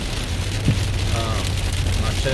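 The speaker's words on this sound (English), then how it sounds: "Sorry for the rain, by the way." Steady rain falling on a surface outdoors, a dense constant hiss and patter filling the background throughout, with a person speaking faintly over it.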